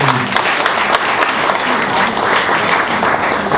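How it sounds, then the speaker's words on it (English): Audience applause at a medical association gathering, a loud, even wash of many hands clapping close by, steady throughout with no talk over it. "Let's give her another round of applause."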